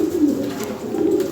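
Lahori Sirazi pigeons coo in a low, steady rolling murmur, close by and continuous.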